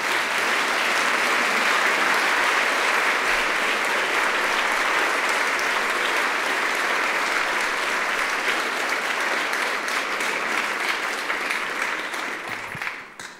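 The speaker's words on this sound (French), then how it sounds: "Et je vous demande de l'applaudir bien fort." An audience at the 2014 Fondation du Rein gala applauds loudly and steadily for about thirteen seconds, a dense wash of clapping that fades slightly toward the end.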